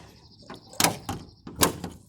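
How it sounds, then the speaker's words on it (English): The stiff door of a 1958 AMC Rambler Super is forced open, giving a few heavy clunks and scraping creaks in quick succession at close range, with no one talking. "The door is really, really stiff"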